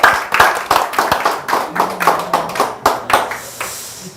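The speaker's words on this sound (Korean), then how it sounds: "박수로 환영해 주세요" An audience claps to welcome a speaker at a lecture, steady rhythmic hand clapping close by that slowly thins out toward the end.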